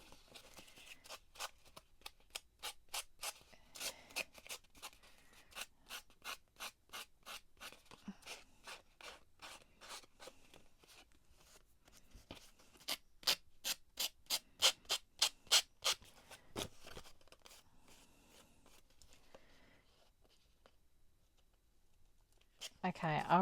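Scissors snip repeatedly through an inked paper craft piece at a crafting desk, quick close crisp clicks in bursts with pauses, fairly faint overall.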